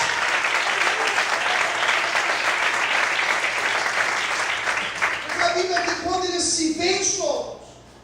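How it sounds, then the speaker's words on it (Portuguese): A church congregation applauds steadily for several seconds, a thick continuous clatter of hands, before a voice begins speaking over the fading claps. "Aplauda o Senhor nessa noite."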